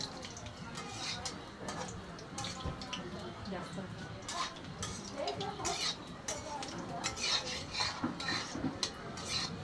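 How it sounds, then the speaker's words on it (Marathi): Gulab jamun frying in ghee in a pan, a busy, crackling sizzle with clinks and scrapes of a spoon against metal, fairly close and continuous throughout. "हे बघा टाकले तुपामध्ये गुलाबजामुन फ्राय करायला"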